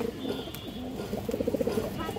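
A male high-flying Kaldom pigeon gives a run of rhythmic coos, nearby and moderately loud, the pulses quickening toward the end over a low background murmur.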